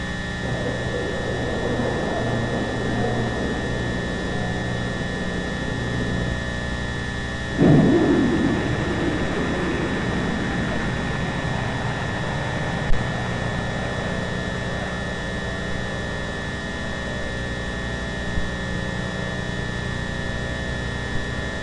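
A Minuteman III missile launch on the Air Force Eastern Test Range, a sudden loud roaring onset that settles into a sustained, rumbling broadband roar fading slowly over a steady background hiss.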